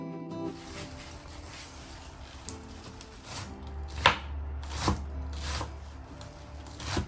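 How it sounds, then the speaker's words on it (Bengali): Mustard greens cut one by one with a knife in a village kitchen, giving a few irregular soft chopping thuds and rustles close by over a low background hum, with no talk. "চলুন যে সর্ষের শাকগুলো নিয়ে এসেছিলাম সেগুলো এখন এক এক করে কেটে ফেলি"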